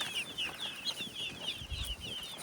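Young chicks cheep in a cardboard box on a village farm, a steady run of high, rapid peeps close by, with faint rustling and low thumps underneath.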